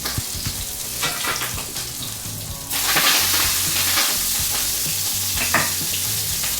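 Garlic and clams sizzle loudly in a frying pan, giving a dense, crackling fry with pops and stirring scrapes. A sudden surge of hissing midway suggests liquid hitting the hot pan.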